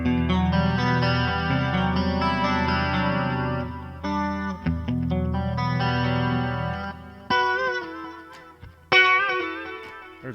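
Electric guitar lick through a Tone Master Pro clean country preset, with chorus and echo effects; a bright, continuous run of notes played alone, loud and close with brief pauses near the end.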